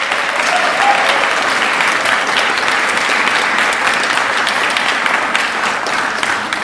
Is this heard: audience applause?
yes